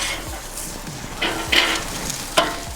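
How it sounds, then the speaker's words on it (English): Tri-tip steak sears on a Weber kettle grill with a soft, steady sizzle, broken by a few louder crackles and scraping handling noises close by, with no talking. "We just really want to get a good sear on the outside."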